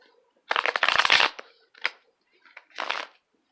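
Tarot cards are riffled and shuffled in quick bursts, a longer flurry followed by two shorter ones, close and crisp with no talking.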